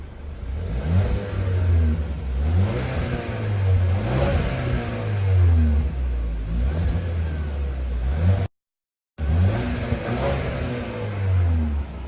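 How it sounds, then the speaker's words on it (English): A 2017 Ford Fusion SE with the EcoBoost turbocharged inline four-cylinder revs through its exhaust several times, rising and falling in loud, close blips with a brief dropout near the end. "now I'm going to give y'all a little exhaust clip"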